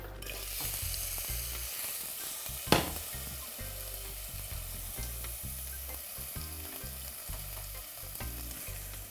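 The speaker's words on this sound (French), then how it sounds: "Donc mon huile est bien chaude. Je mets mes oignons." Onions dropped into hot oil, a steady crackling sizzle close by with one sharp clack of a utensil against the pan early on, no one speaking.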